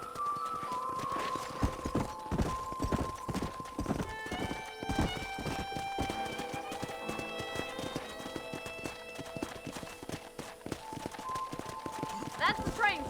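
Horse hooves clop in a quick, steady trotting rhythm in the video game Red Dead Redemption while voices talk over them; a whinny rises briefly near the end.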